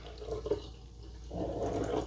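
Jack Daniel's and Coca-Cola mix is poured into a glass, with a soft liquid trickle that swells into a steadier, fuller splashing pour in the second half, close and without voices.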